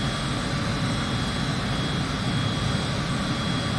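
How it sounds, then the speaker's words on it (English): A simulated SR-71 Blackbird's jet engines roar in a steady, dense, unbroken wash of noise, loud and continuous across the whole span with no pauses or talking. "a giant Blackbird is falling out of the sky from 40-some thousand feet"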